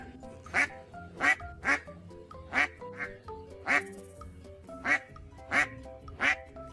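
A duck quacks about ten times in a loud, regular series of nasal calls spaced roughly half a second apart, close and clear against a quiet background.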